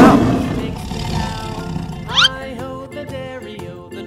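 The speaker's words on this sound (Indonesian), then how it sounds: "Wah, ada harimau." A toy tiger gives a short electronic roar, a growling burst followed by a rising squeal, loud and close, with a brief voice near the start.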